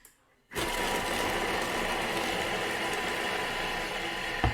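Thermomix running at speed 5 while chopping leafy greens, starting abruptly after a brief quiet moment, then a steady, loud motor whir with a dense buzzing, whooshing texture that holds for about four seconds.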